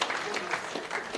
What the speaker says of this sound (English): can we give them a very big round of